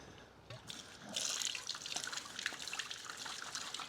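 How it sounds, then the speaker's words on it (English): Reverse-osmosis water pours from a tap onto dry sand in a bucket, a soft trickle that swells into a steady, faint splashing hiss, close but quiet. "I'm just going to open up the tap and get some RO water on this sand"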